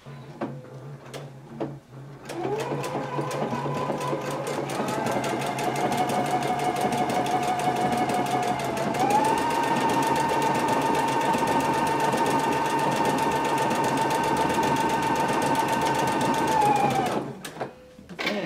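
A Husqvarna Viking Epic 980Q sewing machine runs steadily while stitching a blind hem, a continuous close motor whine with rapid needle ticking that rises slightly in pitch midway and stops near the end.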